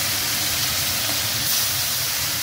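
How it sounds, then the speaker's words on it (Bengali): Fish pieces frying in hot oil in a home kitchen, a steady loud broadband sizzle and hiss filling the whole stretch with no break and no talk. "চলো মাছগুলো পুরো লাল লাল করে ভেজে নেব"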